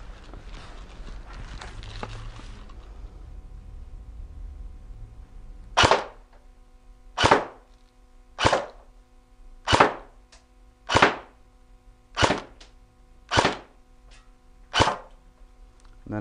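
Cyma airsoft AEG loaded with 0.2 g BBs firing a slow run of eight single shots at a steady, roughly one-per-second pace, each a sharp loud crack, following a stretch of faint room noise.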